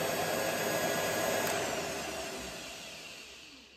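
A treadmill motor spins a lathe spindle at about 1,000 RPM, giving a steady broadband whir that holds even and loud, then slowly fades as it winds down toward the end.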